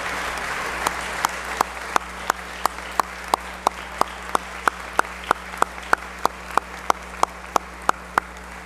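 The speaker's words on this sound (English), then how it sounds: "Members, let's give this team a round of applause." A legislative chamber applauds the Kingfisher Yellowjackets, the boys' state championship basketball team, with steady group clapping running throughout and sharp individual claps standing out at an even rhythm.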